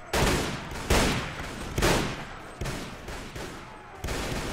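Battlefield gunfire in the Red Wars mod for Mount & Blade Warband: several sharp, booming volleys about a second apart, each trailing off into rumbling echo, with scattered shots between.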